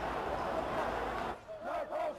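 A rioting crowd shouts in a London square near Nelson's Column. The dense roar of many voices rises into scattered yells and cries, with a voice speaking over it.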